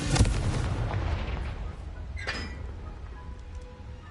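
A Confringo spell blast in Hogwarts Legacy bursts out as a loud booming explosion with crackling debris, then a second sharper impact follows and fades into a low rumbling tail.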